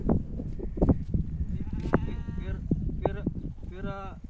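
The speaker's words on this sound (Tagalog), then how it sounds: "Daming kambing." Goats bleat repeatedly with wavering, nasal cries, several animals calling over a busy background of voices and movement.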